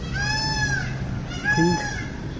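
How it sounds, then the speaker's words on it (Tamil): Peacock calling at a tourist spot in Kanyakumari, two loud, drawn-out honking wails about a second apart, close by and standing alone over steady background noise. "இதோ பாருங்க எங்கே மயில் கத்துது"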